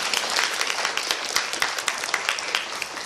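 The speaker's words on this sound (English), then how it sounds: "Give a round of applause." Audience at a talk about bats applauding in a room, a short burst of dense, loud clapping that holds steady through the whole stretch.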